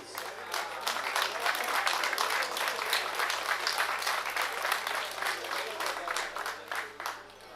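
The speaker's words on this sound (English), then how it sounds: "Give him a big round of applause, please." A crowd at a pool tournament claps steadily for several seconds, a dense, sustained round of applause that tapers slightly at the end.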